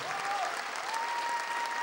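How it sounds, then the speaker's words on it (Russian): Audience applause for a senior folk dance studio group fills the room with dense, steady clapping, fairly faint and at a distance, while a thin tone hums beneath it. "Ваши аплодисменты, старшая группа."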